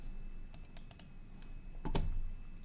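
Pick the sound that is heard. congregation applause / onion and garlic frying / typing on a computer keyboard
typing on a computer keyboard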